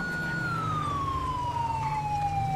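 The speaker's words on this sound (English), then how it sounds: "I'm going to need to turn on my sirens." A police car siren in the video game GTA V wails with a slow descending tone over steady engine and road rumble, loud and continuous throughout.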